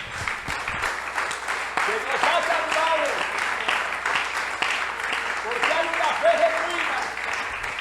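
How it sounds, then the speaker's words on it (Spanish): A church congregation applauds during a sermon, a steady, dense wash of clapping that holds for several seconds, with voices and cheers mixed in over it. "Yo quiero darle un aplauso a este Dios tan extraordinario."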